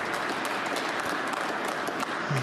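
A snooker crowd at the 2023 Northern Ireland Open last-16 match between Noppon Saengkham and Judd Trump applauds a shot, giving dense, sustained clapping with no speech over it.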